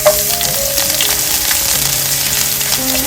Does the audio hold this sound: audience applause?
no